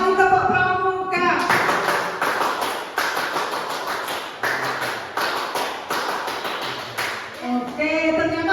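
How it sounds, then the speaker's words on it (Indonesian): A room of schoolteachers performs the Indonesian Pramuka scout clap, a loud rhythmic pattern of claps that plays through in rounds for several seconds, with voices speaking just before and after. "2 kali tepuk pramuka"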